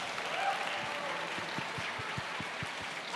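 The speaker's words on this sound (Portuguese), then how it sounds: "Uma salva de palmas!" An audience applauds steadily after a talk at a summit event in Rio, a dense wash of clapping filling the hall for a few seconds.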